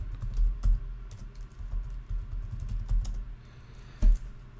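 A password being typed on a computer keyboard while setting up a Linux server user: a run of close, crisp key clicks in an uneven rhythm, with a couple of heavier keystrokes standing out.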